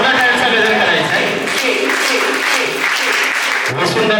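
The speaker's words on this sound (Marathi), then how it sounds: "जोरदार टाळ्यांचा गजर करायचा आहे." A crowd at a school award ceremony claps in a dense, sustained burst that stays loud throughout, with voices mixed into the applause.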